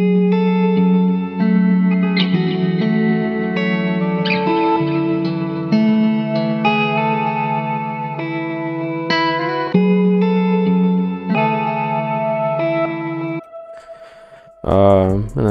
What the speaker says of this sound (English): That's what it sounds like with the reverse in.